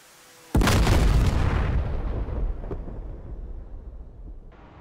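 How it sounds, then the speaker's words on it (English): A missile strikes and explodes in the DCS World F-4 Phantom flight simulator: one sudden loud boom after brief quiet, followed by a long rumbling decay that fades over several seconds. "that was a good hit with at least one of the missiles"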